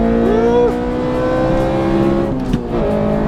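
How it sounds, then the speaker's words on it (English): Honda K20 VTEC engine in an EK Civic revving hard on a race track, loud and close, its pitch climbing and dropping through gear changes as it pulls to the top end. "That VTEC sounds good."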